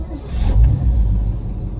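A 1978 Chevrolet K5 Blazer idles after a cold start, a steady low engine rumble close by with a brief rise in the middle, no talk over it.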